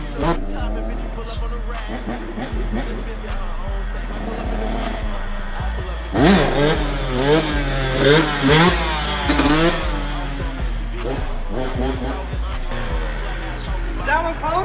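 A two-stroke dirt bike engine revving hard through wheelie practice, loud rising and falling buzzy revs in repeated bursts, close and continuous, with more intense revving midway.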